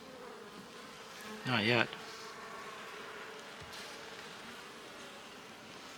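Honeybees buzz steadily inside a winter beehive, a continuous close drone that runs throughout while a person speaks briefly over it.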